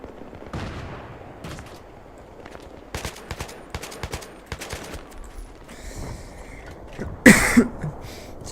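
Battlefield 3 gunfire rattles in scattered bursts of sharp cracks, moderately distant, before one louder, heavier blast near the end, with no talking.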